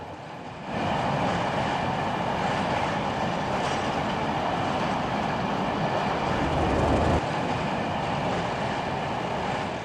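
A passing train hauled by a class 31 diesel locomotive rumbles loudly and steadily for several seconds, a dense mechanical roar with faint rhythmic rattling of wagons.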